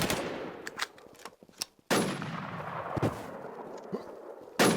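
Rapid bursts of automatic gunfire and single shots crack through a first-person shooter match, loud and close, with sharp impacts and a sudden heavy blast near the end.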